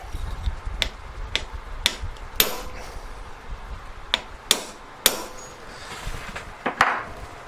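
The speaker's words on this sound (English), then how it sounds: "Use your metal hammer, not a rawhide mallet or nothing like that" A metal hammer strikes a steel punch while marking a ring mount for a large diamond. About a dozen sharp, ringing taps come at an uneven pace, close and clear, with no talking.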